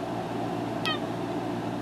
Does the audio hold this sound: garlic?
no